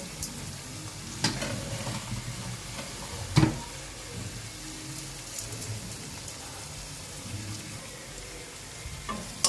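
Onion paste with a little sugar frying and being stirred for a festive mutton and katla fish kalia, a dense continuous sizzle broken by occasional louder spoon scrapes against the pan.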